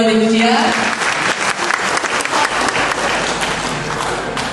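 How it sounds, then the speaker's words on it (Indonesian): A reunion crowd of 1975 economics alumni from Unpar applauds a former lecturer, the brief tail of a voice giving way to loud, full, sustained clapping from many people. "Boleh tepuk tangan mungkin buat Ibu Cia."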